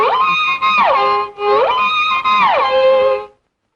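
Two long, sustained violin bow strokes made by swinging both arms together, each sliding down in pitch at its end, loud and close with a brief break between them, alone without talk.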